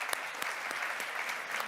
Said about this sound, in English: how about a round of applause for John?